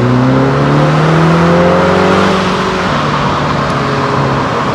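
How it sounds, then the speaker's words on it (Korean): A Mini Cooper S convertible with its engine and exhaust in sport mode, a loud, steady close-up drone that rises in pitch then settles as the car pulls through a corner. "스포츠 모드를 두면은 JCW만큼의 그 배기음 거기까지라고 해야 되나? 이게 커요."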